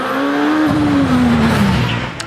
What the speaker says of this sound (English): This is the Works Empire Wraith that's built by Bill Chaplin down near Taunton